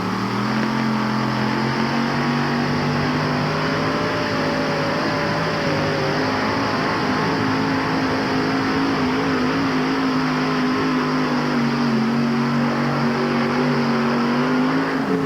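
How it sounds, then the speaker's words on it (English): A 588 cubic inch alcohol-injected supercharged Rodeck engine in the Buckeye Special pulling tractor roars continuously at a sustained, loud pitch, near and steady throughout with a faint rise in tone, at an NTPA pull in Syracuse, 1988. "588 cubic inches of alcohol-injected supercharged Rodeck power."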